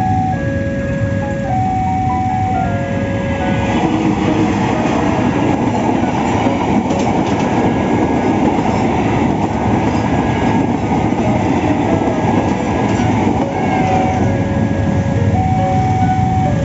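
A train rumbles past with a steady clattering roar while crossing bells ring in a repeating two-tone pattern, loud and close throughout.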